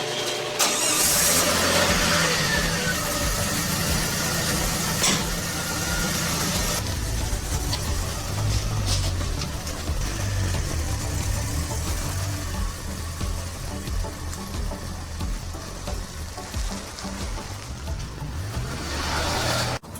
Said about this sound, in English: we are gonna hop in the DeLorean Tech car here and head on over to his house